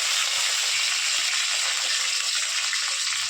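Onion and bay leaves frying in hot oil in a wok, giving a steady, loud, broadband sizzle with faint crackles that runs without a break and without talk.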